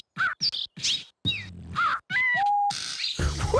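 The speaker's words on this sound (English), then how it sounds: "Betty, are those... blue-billed beatboxing birds?" Cartoon blue-billed birds trade quick chirps, squawks and whistled beatbox-style calls in short bursts with brief gaps, ending in a noisier scratchy burst, with no speech over them.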